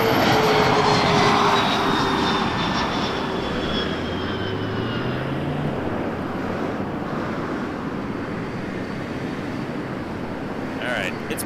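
An Air Canada A330-300 arriving from Montreal approaches runway 24 left at Toronto Pearson, its jet engines making a loud, continuous roar that shifts in pitch as it passes, with wind and a voice audible underneath.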